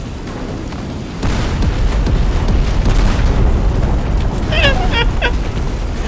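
A meteor strike explodes in the video game Teardown. After a second of background noise, a sudden heavy rumbling boom starts and rolls on loudly to the end, with scattered crackles and debris bursts on top.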